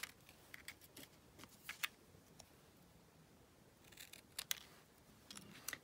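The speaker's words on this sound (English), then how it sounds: "I'm just going to cut this out, just using my scissors" Scissors snipping through white cardstock for cutting out words, quiet close-up clips in short bursts with pauses between, over a faint background hiss.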